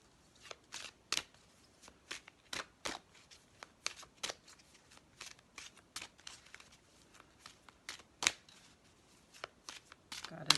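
A deck of tarot cards is shuffled in repeated crisp riffles and snaps, close and fairly quiet, with short pauses between bursts.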